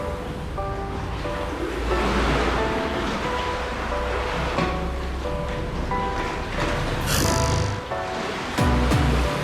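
Ocean waves surging inside Mermaid Cave on Oahu, a continuous loud wash of surf that rises and falls, echoing in the rock, with occasional faint tones and a brief splash near the end.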